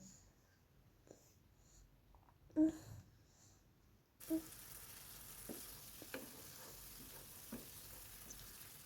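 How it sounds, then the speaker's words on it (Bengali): Chicken liver stir-fried and braised in a pan for a potato curry, giving a quiet, steady sizzle with a few soft clinks of stirring. It grows slightly louder and fuller partway through. "দেখতেই পাচ্ছেন কলেজাগুলো ভালোভাবে ভুনা ভুনা করে কষিয়ে নিতে হবে"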